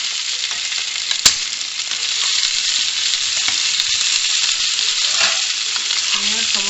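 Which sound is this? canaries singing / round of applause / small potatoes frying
small potatoes frying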